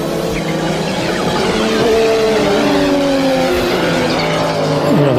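Audi five-cylinder racing engine roaring loud and continuous with rising and falling revs, a racing car driven hard with faint tyre squeal near the end.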